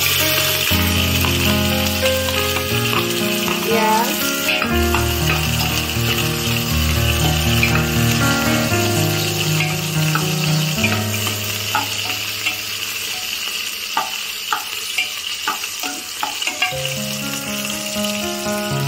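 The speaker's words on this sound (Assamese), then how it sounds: "এতিয়া তেলটো গৰম আৰু ইয়াতে এতিয়া দিম পিঁয়াজ" Onions hit hot oil and sizzle loudly and continuously, with occasional stirring scrapes, all mixed under prominent background music.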